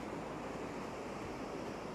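Ocean surf and wind at Ao Krathing Beach in Khao Laemsing Forest Park, Chanthaburi, Thailand, form a steady, even wash of broadband noise, fairly quiet and continuous with no voices.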